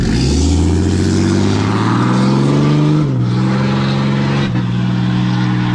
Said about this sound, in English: that's quite an exhaust